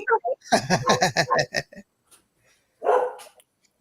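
A house dog barks in a quick burst of sharp, close barks, then gives one more bark after a short pause, with a little speech at the start.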